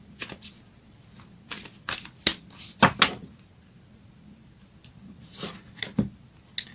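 Moonology oracle cards being shuffled by hand: repeated crisp riffling and slapping bursts in an irregular rhythm, close and clear, with quieter pauses between.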